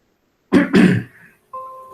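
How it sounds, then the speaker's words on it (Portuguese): A person clears their throat twice in quick succession, close and loud, followed by a short tonal hum. "Tô com um pigarro chato."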